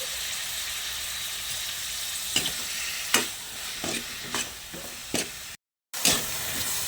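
Eggplant and tomatoes sizzle steadily in a hot pan with oyster sauce, a constant frying hiss broken by several sharp scraping stirs and one brief drop to silence near the end.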